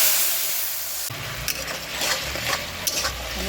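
A spoon stirs spice paste in a pan for a milk and pointed gourd curry, with steady sizzling frying and scraping strokes against the pan, close and continuous with no talking.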